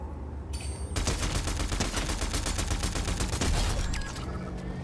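Dense, rapid automatic gunfire bursts out in the video game Fortnite Battle Royale, loud and continuous for several seconds with no talking, then thins at the end.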